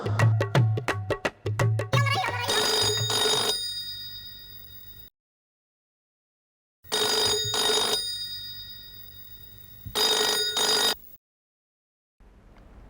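A telephone rings in bursts, opening with a quick string of metallic bell strikes and then repeating in separated rings with silent gaps between them. Music and other sounds mix with the ringing.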